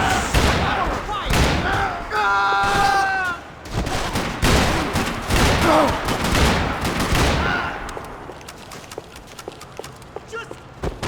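Dense bursts of gunfire in the video game Max Payne 3, with rapid overlapping shots and loud cracks around shouting voices and game dialogue, thinning to scattered, quieter shots near the end.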